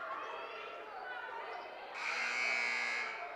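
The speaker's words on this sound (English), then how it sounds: "rang the buzzer after the ball was handed in" A basketball game buzzer blares in a high school girls' gym, a long loud electronic tone over steady crowd chatter.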